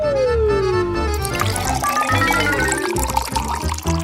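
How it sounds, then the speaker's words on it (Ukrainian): Water being poured onto soil, a continuous close trickle and splash with rising filling tones, mixed with background music and no talk. "А, полью водою"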